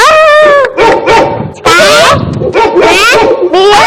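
Repeated loud dog barks and yips close by, coming in several bursts with brief gaps, mixed with whimpering in a comedy sketch setting.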